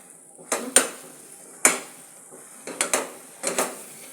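A spatula scrapes and knocks against a pan while wheat flour halwa cooks in ghee, several separate metallic clinks and scrapes in short uneven bursts, close and fairly quiet between strokes.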